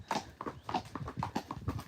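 Friesian horses out on a hack, hooves clip-clopping in a steady, close walking rhythm, with about eight distinct clear hoofbeats over two seconds.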